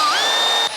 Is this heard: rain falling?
no